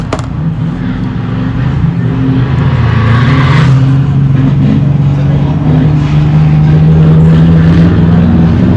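A Comp Truck off-road race truck at the High Desert 100 in Powell, Wyoming, its engine roaring loud and close as it comes across tabletop jumps, the engine note rising and sustaining throughout.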